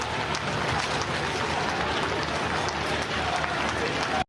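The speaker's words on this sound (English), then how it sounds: "les chefs de l'État qui passent sous les applaudissements de tous ces Parisiens" A Parisian crowd applauds as heads of state pass by in a march, a sustained, dense clapping like rain that holds steady at a moderate distance and stops abruptly at the end, with possible voices mixed in.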